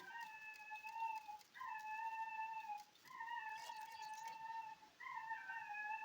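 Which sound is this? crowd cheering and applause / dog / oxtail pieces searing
dog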